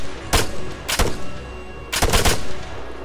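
Suppressing gunfire in the video game Arma 3: three loud, close bursts of rapid automatic shots, the last one longer, separated by short pauses.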